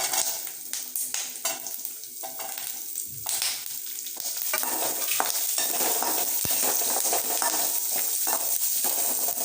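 Shallots sautéing with curry leaves in a pan, a dense continuous sizzle that builds and steadies, with scattered scrapes and taps of a utensil against the pan early on.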